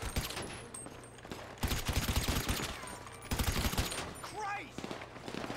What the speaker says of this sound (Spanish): Hay tiros. Se escuchan desde allá arriba.